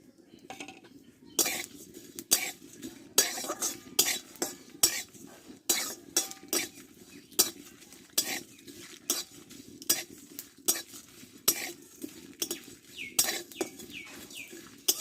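Spoon scraping and clattering in a pan in quick repeated strokes, close up, as whole cumin, coriander and fennel seeds are dry-roasted, stirred and tossed, with a faint dry sizzle underneath.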